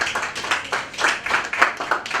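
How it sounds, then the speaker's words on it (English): Audience at a Women in STEM event in Mombasa, Kenya, clapping for a guest in a modest round of applause, a few claps standing out loudly from the patter, fairly near and without speech. "A big round of applause to them."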